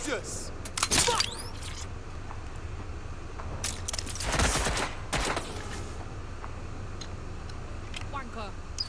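Gunfire in the game Watch Dogs Legion, sharp bursts of shots and a brief volley amid steady background game noise, with someone talking over it.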